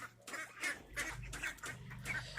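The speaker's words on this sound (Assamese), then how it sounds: "এইটো দেখিবলৈ পাইছে আমাৰ হাঁহ বন্ধুসকল গা ধুই আছে।" Ducks bathing on a duck farm in Assam give a string of nasal quacks and clucks, close and fairly quiet, with low background rumble and no speech.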